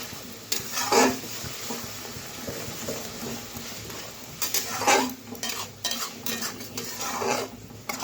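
A metal spoon stirs turmeric powder into tomato chutney in a pan, with repeated scraping clinks against the pan over a low, steady sizzle, close and fairly quiet.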